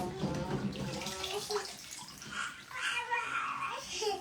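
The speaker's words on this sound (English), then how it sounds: "And I'm giving it a good rinse." Tap water runs and splashes over a mucky lobster being rinsed in a sink, a continuous close burbling stream with faint handling noises and no voice.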